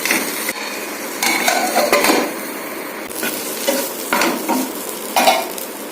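A spoon stirs eggplant curry in a pan, giving intermittent scraping and stirring strokes over a soft sizzle, close and fairly loud, with no talking.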